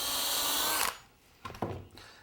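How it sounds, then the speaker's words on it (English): A hammer drill whirs loudly into wood for about a second, drilling a clearance hole, then cuts off, followed by a couple of brief clunks and knocks. "These holes that I'm drilling right now are called clearance or shank holes."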